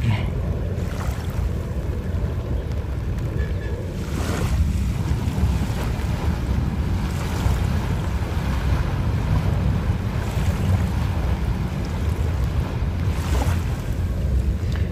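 Water gushes and churns in front at Dolomite Beach by the sea, a continuous rushing wash mixed with steady wind buffeting the microphone, with periodic surges.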